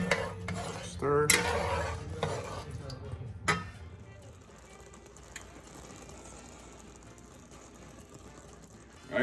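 A spoon stirs rice in a pot, with scraping and clinking against the pot's metal in a short burst, then quieter rustling, heard up close with some talking over the first few seconds.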